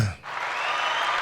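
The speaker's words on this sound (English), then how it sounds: "Applause to her" An audience claps in applause, a steady broadband patter that swells in after a short pause and holds evenly to the end.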